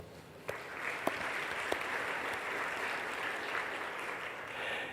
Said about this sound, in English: I think we need to welcome them with a round of applause.